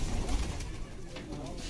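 Breeder pigeons on a home rooftop coo softly in a steady low murmur, faint and somewhat distant, with broadband background noise throughout.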